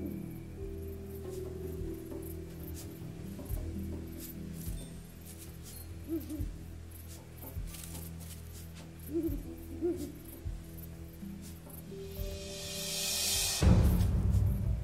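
A Ural owl hoots several times at a distance in a quiet forest clearing, brief low calls spaced over a faint background hum, followed by a louder rustling burst near the end.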